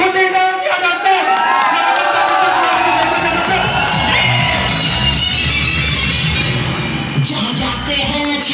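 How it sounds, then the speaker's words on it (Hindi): A large audience in an auditorium at a direct selling recognition meeting claps and cheers as a guest is welcomed onto the stage, with loud sustained cheering, whoops and shouting over music and an announcer's voice. "आप सबकी जबरदस्त तालियों के साथ welcome on the stage mister Khushiram Yadav sir."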